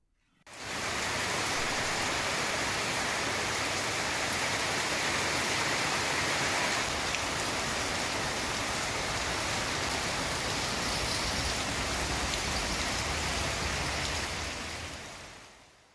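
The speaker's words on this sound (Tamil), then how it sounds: "மூன்றாவது நாளாக மழை பெய்தது விட்டு விட்டு மிதமான மழை" Heavy rain pours down across Chennai streets, a dense, loud, unbroken roar of falling water that starts abruptly and holds steady for the whole stretch, with no voices.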